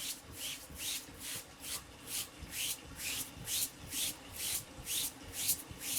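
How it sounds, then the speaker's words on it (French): A brush is scrubbed back and forth over wet laundry by a traditional washerwoman, about a dozen steady rhythmic rasping strokes, close and fairly quiet, with no talking. "Après, on prend la brosse et on frotte."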